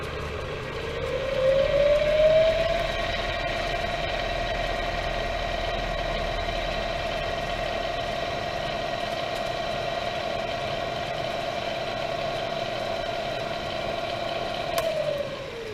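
A Bridgeport CNC Series II Special vertical mill with an 11 by 58 inch table runs in back gear. Its spindle drive whines upward as it spins up, then holds a loud, steady mechanical hum until a brief change near the end.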